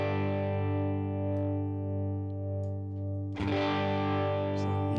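Clean electric guitar through a Neural DSP Tone King Imperial amp plugin modeled on a Deluxe Reverb, with a slow, subtle tremolo gently pulsing a sustained chord that is restruck midway, loud and alone.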